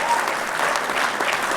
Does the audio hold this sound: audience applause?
yes